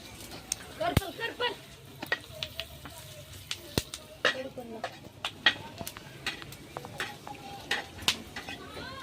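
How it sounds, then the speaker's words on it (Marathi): Whole spices, coconut and chana dal dry-roasting in a pan for chicken curry, with repeated clinks and scrapes of a spoon stirring against the metal over a faint sizzle, close by and intermittent. "अख्खा मसाला छान असा भाजून घेतला"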